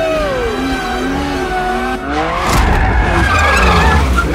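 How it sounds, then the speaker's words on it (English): A 2021 BMW M4 with manual transmission skids loudly, its tires squealing over a running engine, the noise swelling and growing rougher partway through. "The new BMW M4 with manual transmission."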